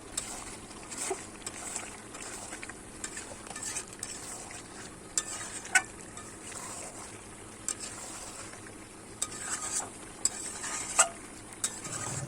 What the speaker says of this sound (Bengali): এইভাবে ভালো করে নেড়েচেড়ে কষাতে থাকবো যতক্ষণ না